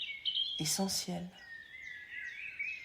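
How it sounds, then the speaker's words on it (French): Small birds chirp and trill outdoors in nature, with thin high whistling calls continuing behind a soft spoken voice and carrying on alone after it stops. "ces chants d'oiseaux magnifiques"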